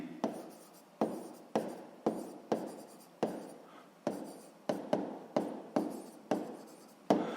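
A pen writes on paper during a sixth-grade maths exercise, making a steady series of close, distinct scratching strokes about once a second, each ending in a faint tail.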